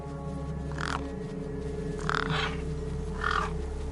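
Birds eyeing a corpse in Beyond A Steel Sky, three hoarse crow-like caws spaced about a second apart over a steady low droning hum.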